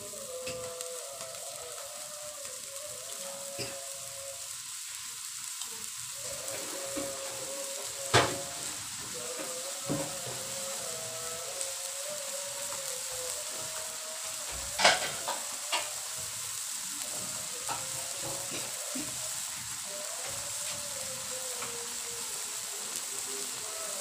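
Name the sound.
stir-frying beef tendon (kikil) in a pan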